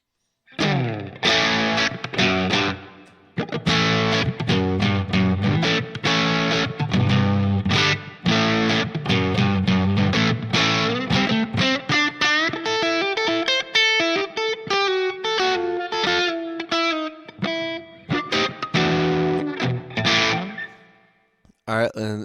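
A Stratocaster electric guitar played through a Line 6 POD HD500 Plexi Lead 100 amp model based on a Marshall Super Lead 100, master at 70, giving a crunchy distorted tone with chords and riffs, then sustained notes and a closing ringing chord.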